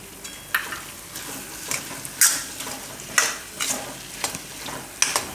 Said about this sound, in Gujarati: તો હવે આમાં આપણે આ ટમેટાં નાખી દઈએ અને લીલા ધાણા નાખી દઈએ.